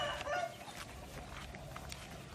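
Farm chickens and roosters cluck in an outdoor yard. A short burst of louder clucking comes at the start, then quieter scattered calls follow over low background noise.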